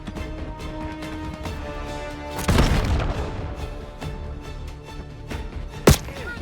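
A frag grenade goes off in the video game Black Ops 7, a loud, booming burst in the middle amid ongoing gunfire and game noise, followed later by a sharp, brief crack.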